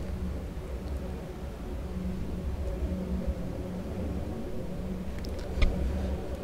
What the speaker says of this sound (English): And by legging it, I mean riding on our hover bike.